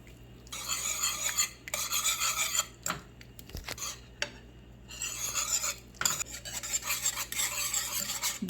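A whisk scrapes and swirls steadily through creamy mac and cheese sauce in a pot, its close, rasping strokes broken by a few brief pauses and light metal taps.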